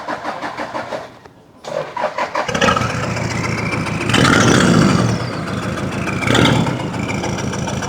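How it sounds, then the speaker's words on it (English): A Toyota Land Cruiser engine cold-starts after a brief cranking whir, catching abruptly and settling into a loud, rough idle with a couple of revving swells, close by. "Land Cruiser cold start"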